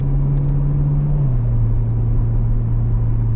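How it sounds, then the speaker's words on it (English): Naturally aspirated V6 engine of a sports car, heard from inside the cabin as a steady loud low drone that drops slightly in pitch partway through, with no talk over it. "Gotta love the sound of a naturally aspirated V6."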